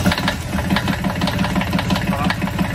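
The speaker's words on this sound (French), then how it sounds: "Donc démarrage du moteur." A boat's diesel engine runs at a steady idle right after being started, producing a continuous close-up rumble with a fast, even knocking pulse and no talk over it.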